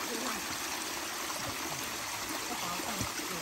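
The Shirataki waterfall on Mount Hokyo rushes in a steady, broadband wash of falling water, constant and fairly close throughout, with no clear speech over it.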